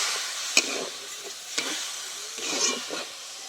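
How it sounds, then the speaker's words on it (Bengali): Spice masala for chicken curry stirred in a pan with a splash of water, soft sizzling with a few sharp spatula knocks and scrapes, fairly quiet and close. "এবার খুব ভালো করে আমি কিছুক্ষণ নেড়ে চেড়ে নেব।"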